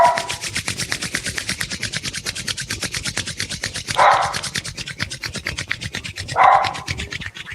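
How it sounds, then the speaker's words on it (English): Palms rubbed briskly together in a meditation session, making a close, dry swishing in quick, even strokes that repeat steadily throughout, with two slightly stronger rubs along the way. "begin to rub the palms together."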